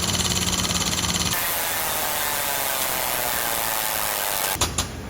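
A loud machine whines and hisses under strain, a harsh steady mechanical roar that cuts off abruptly, followed by a couple of clunks.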